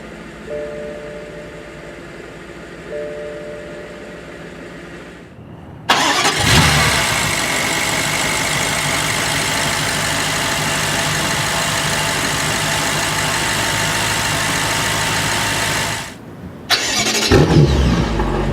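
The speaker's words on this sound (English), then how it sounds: "put your foot on the brake and hit the dash mounted button to go" A 2016 BMW M6 Competition Edition with a Dinan Stage 2 tune starts with a couple of soft chimes, then its engine cranks and fires with a loud surge and settles into a steady idle. It cuts off briefly and then restarts near the end.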